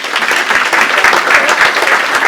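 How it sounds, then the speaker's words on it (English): An audience at a stadium awards evening applauds a school rugby team with dense, loud, sustained clapping that holds steady throughout. "So a big round of applause to Rainford High."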